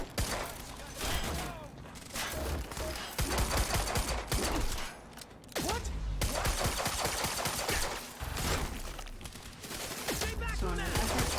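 Sustained gunfire from the action game Quantum Break, with bursts of rapid shots and heavy impacts rolling almost continuously, loud and dense, broken only by short pauses.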